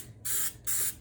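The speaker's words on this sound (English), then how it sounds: "I don't spray a lot on the bottom because I need that switch to move." Two short hissing bursts of a spray paint can coating a motion sensor for a Halloween yard prop, each lasting about a quarter second, close and fairly loud.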